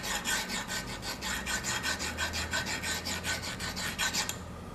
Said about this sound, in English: 100 grit stone here to deburr all the edges on the these vise jaws